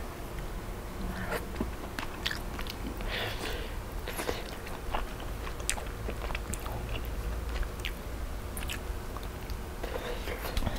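Close, wet chewing and biting noises with smacking lips, steady and continuous for several seconds, no talking.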